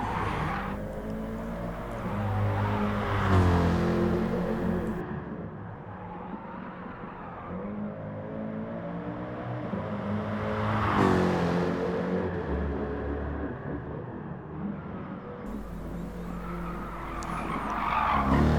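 A Jaguar F-Type sports car, priced from about £50,000, drives hard with engine roar and long tire squeals as it skids, the sound swelling and fading in several loud sweeps with brief drop-outs.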